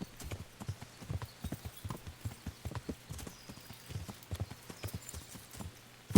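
Horse hooves clip-clop steadily while riding through a miller's property in Kingdom Come: Deliverance, a brisk, regular rhythm of close, crisp hoof strikes over a low ambient hum.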